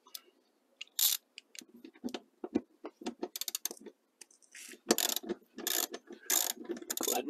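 Ratchet socket wrench with a 14 mm socket loosening seat bolts in a Toyota truck, rapid clicking bursts in irregular spurts, close and fairly quiet, with brief pauses between turns.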